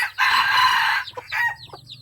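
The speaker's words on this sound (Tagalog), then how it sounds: "At ito yung panghuli nating labuyo mga idol." A red junglefowl (labuyo) rooster crows once loudly and close, a long sustained call, followed by a few short clucks, with no voices present.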